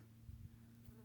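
Close, steady low buzzing of a honey bee, a continuous hum with a few brief swells as it moves about, no voices.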